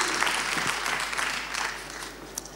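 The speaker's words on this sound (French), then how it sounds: "On les applaudit" A crowd at an awards ceremony for excellence trophies gives sustained, dense applause, a steady wash of many hands at moderate level that tapers slightly toward the end, with little talk.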